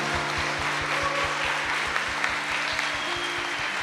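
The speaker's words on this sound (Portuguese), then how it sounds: "Se a igreja concorda, dê uma salva de palmas para os pais." A Sunday Mass congregation applauds the fathers, steady clapping spread across the church, quiet and continuous, with a low rhythmic thumping running beneath it.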